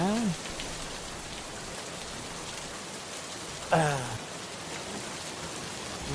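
Steady rain falls in the rainy season, a dense even hiss across the whole span with no break. Brief voice fragments sit under it at the start and near the four-second mark.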